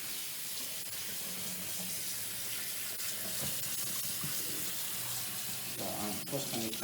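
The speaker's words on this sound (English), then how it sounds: "So now we're going to put our veggie to give a nice good rinse." Running tap water pours steadily into a sink while Tuscan kale is rinsed, a close, continuous splashing hiss with a brief voice near the end.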